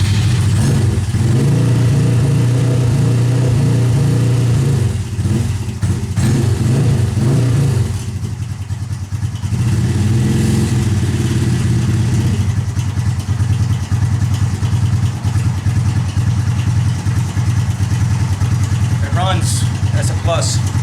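A Honda Grom motorcycle engine being rebuilt runs after an emergency jump start, with a steady close idle and rough, clattering running throughout as people talk over it.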